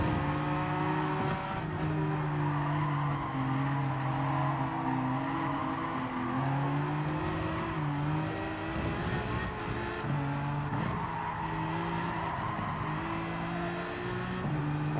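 Race cars in Gran Turismo 7 drone continuously with shifting engine pitch, revving and changing gears through corners, loud and steady for the whole stretch with no talking.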